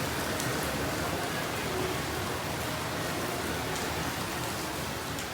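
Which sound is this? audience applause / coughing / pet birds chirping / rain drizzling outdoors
rain drizzling outdoors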